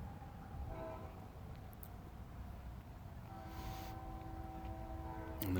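A train rolls by with a constant low rumble, a horn sounding faintly partway through and again near the end as the noise swells.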